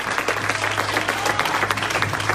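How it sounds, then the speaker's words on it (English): A church congregation claps hands together during a worship service, a dense, steady burst of clapping filling the room at close range with no speech over it. "Let us clap our hands unto God."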